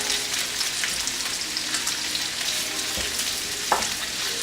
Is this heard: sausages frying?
yes